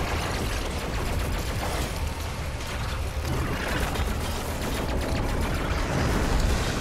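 Gunfire and combat noise from the video game Doom Eternal form a dense, loud, continuous barrage of rapid shots and blasts that runs the whole length without pause.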